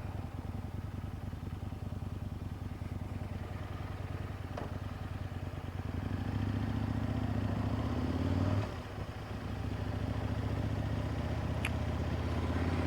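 Aprilia RSV1000R V-twin motorcycle engine heard while riding with standard exhausts and a 16-tooth front sprocket, a steady low drone that swells and revs harder midway, dips briefly, then resumes under wind rush.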